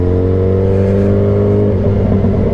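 A Yamaha FZ8 motorcycle pulls away from a green light, its engine note climbing steadily as it accelerates. The sound stays close, loud and continuous, with no voices.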